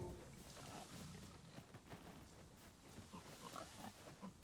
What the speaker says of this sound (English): Oh, it's pigs.